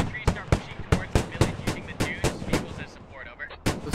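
Gunfire in the military shooter game Squad: about a dozen sharp, loud reports fire in a fast, roughly even rhythm, pause briefly, then one more shot cracks close by.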